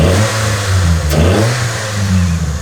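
Camry engine fitted with an aftermarket pod air filter revs up loudly and close, a throaty surge rising then easing back, with no talk over it.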